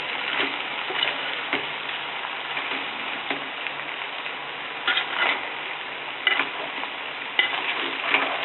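Thothapuri mango gojju being stirred in a pan, soft scraping strokes and light sizzling close by, with intermittent spoon clacks and no voices.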